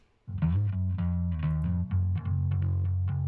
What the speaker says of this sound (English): What you're hearing is the string sounds and these resonant notes that are coming through